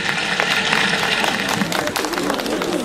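A festival crowd gives a brief round of applause during a quiz game at a Circassian culture festival, dense clapping that holds steady for a few seconds and then thins slightly, with faint talk mixed in.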